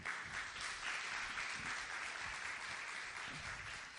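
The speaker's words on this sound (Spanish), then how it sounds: "Démosle un fuerte aplauso a ella." An audience at a veterinary talk applauds steadily for a guest speaker, a soft, fairly distant wash of clapping that holds throughout without voices over it.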